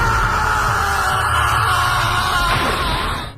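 A woman's loud, sustained scream in an Indonesian horror film, one long strained cry that holds steady and then cuts off, heard alone without talk.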